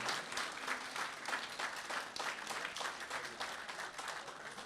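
Audience at an Urdu mushaira poetry gathering breaks into steady, dense applause that holds evenly throughout, many hands clapping at once in a hall, with no voices on top.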